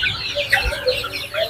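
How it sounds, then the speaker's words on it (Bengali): Native laying hens on a rooftop farm cluck in short, scattered calls that overlap one another at close range over a soft low background. "ডিমের মুরগিগুলা দেখি কি অবস্থা।"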